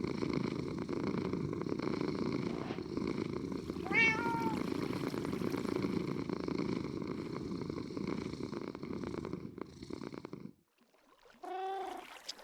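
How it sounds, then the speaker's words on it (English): A Minecraft cat purrs in a continuous low rumble for about ten seconds, with a meow rising through it, then a brief silence and another meow close up. "otherwise it makes infinite purring sounds"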